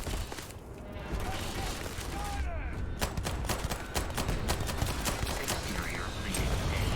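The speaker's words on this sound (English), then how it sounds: "Open fire!" Spaceship weapons firing in Starfield, a fast string of sharp repeated shots over a low engine rumble, fairly quiet overall, with a voice speaking partway through.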